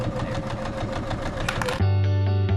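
A sewing machine stitches quilt sashing to a block, running as a fast steady mechanical whir that shifts to a louder, deeper hum near the end, with no voices.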